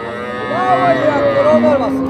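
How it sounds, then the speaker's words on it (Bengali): A one-year-old calf of a crossbred breed moos at a Betaga cattle market, a single drawn-out, wavering call standing clearly over the steady background hum of the market crowd. "আচ্ছা দর্শক, কুরাসের একটি বাছুর"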